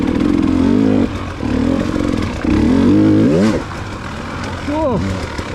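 An enduro motorcycle rides a rough woods trail, engine revving and easing off in surges as the rear end drops into a hole; loud and close with pitch rising and falling.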